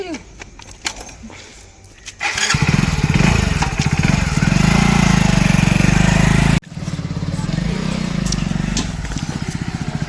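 A tractor engine starts up and runs loudly and steadily close by, with a brief break before it carries on. People talk beforehand in a rural farmyard setting.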